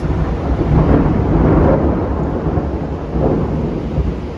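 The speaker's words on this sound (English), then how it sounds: "As I wait for the thunder to pass." Low, rolling thunder from a storm rumbles continuously over an outdoor balcony garden, swelling twice in long waves under steady rain, loud and close with no voices.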